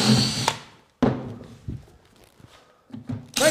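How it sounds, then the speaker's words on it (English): A Makita power drill pre-drills into wood in short, close bursts of whirring, with loud stops and starts separated by quieter pauses and a few knocks, heard without talk. "Why don't we pre-drill that?"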